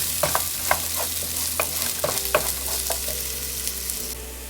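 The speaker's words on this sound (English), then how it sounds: "So I'm going to go ahead and add some onions. And we stir it." Onions and frozen vegetables frying in a pan for home-style Japanese hibachi, a continuous close sizzle broken by repeated scraping clicks of a utensil stirring, with a low steady hum underneath.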